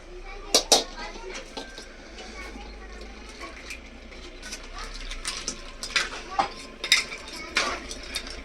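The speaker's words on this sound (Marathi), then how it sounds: "आता आपण ते खेकडे साफ केलेले ते वरून टाकणार आहे." Cleaned crabs tip into a pan of cooking masala with sharp metallic clinks and scrapes of utensils against the pan, set over a low kitchen background while a voice talks.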